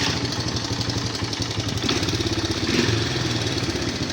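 A Honda Big Red 300 three-wheeler's engine runs after a kick start, a close, steady mid-pitched putter with a couple of brief revs rising above the idle.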